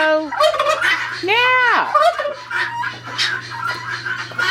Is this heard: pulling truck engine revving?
no